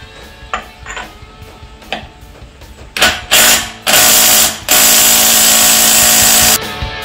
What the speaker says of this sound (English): Time to remove the spindle nuts. That's a 32mm deep socket.